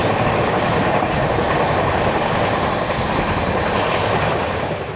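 A train runs past Pandua at speed, a loud, continuous roar of wheels on rail with a faint squeal rising midway and steady clatter beneath, close and unbroken for the whole stretch.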